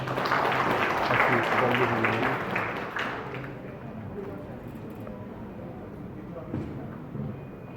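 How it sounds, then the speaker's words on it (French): Applause from an audience at a Haitian political party event, a dense wash of clapping that swells loud at first and then thins and fades as the crowd settles. "Applaudissez pour nous, s'il vous plaît."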